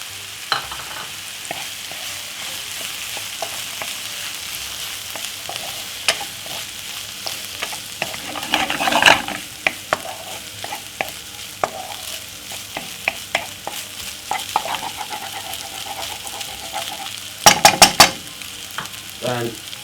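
Rice and vegetables stir-frying in a pan for salmon fried rice, a steady close sizzle broken by scraping stirs and clinks, with louder tossing bursts near the end.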